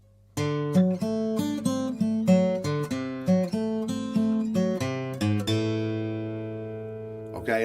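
Acoustic blues guitar plays a fingerpicked run section in the style of an old blues recording, with a steady alternating bass beneath quick treble notes, close and clear, ending on a ringing sustained chord.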